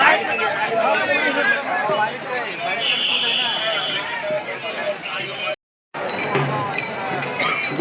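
Dense crowd of pilgrims at Pandharpur during Ashadhi Ekadashi, loud overlapping chatter and shouting with footsteps close by, broken by a brief gap near the end.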